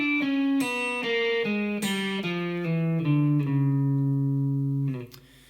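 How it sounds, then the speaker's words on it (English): An electric guitar plays a descending diminished scale run that mixes in open strings, sounding as clean, ringing single notes that step downward at a steady pace, with the last note held before it fades. "here's what it sounds like with the open strings."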